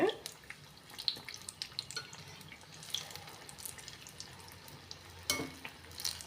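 Onion bajji fritters sizzle and bubble softly in hot oil, a steady quiet frying hiss with occasional small spatters and clinks, no voices.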